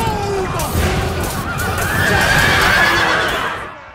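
Light cavalry charge in a Total War Rome II battle: horses whinny loudly with sustained neighing over a rumbling mass of hooves and battle din that swells and then fades.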